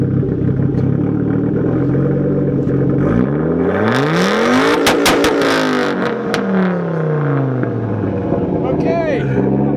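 Loud straight-piped Lamborghinis, an Aventador and a Superleggera, rev hard nearby, engine pitch sweeping up then down through a sharp burst of crackling pops, with voices and crowd noise mixed in.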